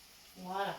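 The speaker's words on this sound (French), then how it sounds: "ça grésille, donc ça va caraméliser" Carrots with honey and butter sizzle quietly in a pan, a faint crackling hiss as a voice speaks a brief word over it near the end.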